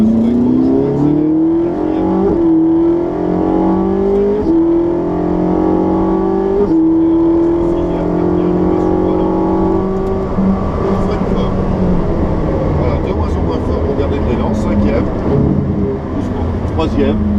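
A Ferrari 458 on a track, its engine climbing in pitch through repeated upshifts as it accelerates hard, loud and close, with an instructor talking over it.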